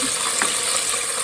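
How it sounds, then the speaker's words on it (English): Chicken deep frying in hot oil for a fried chicken sandwich, a steady close sizzling hiss with faint scattered pops throughout, no talking. "I used to be afraid of the oil popping everywhere"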